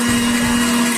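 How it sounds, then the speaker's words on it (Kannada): A kitchen mixer grinder running steadily, grinding food with a loud, constant whirring motor drone and a strong steady hum, heard close up with no talk. "ಬನ್ನಿ ರುಬ್ಬೋಣ ಇವಾಗ."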